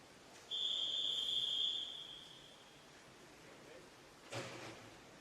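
A swimming official's whistle at an indoor junior swim meet sounds one long, steady, piercing blast of over a second over faint hall ambience, followed by a brief noisy clatter.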